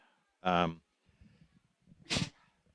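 A single sharp sneeze, preceded by a brief voiced intake sound, close to the microphone with quiet murmuring between.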